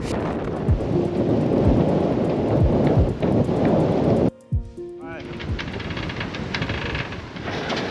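Strong wind of about 30 to 35 knots at an anchorage buffets the microphone with heavy, rumbling gusts. After a short break the noise continues as a lighter, steady rush.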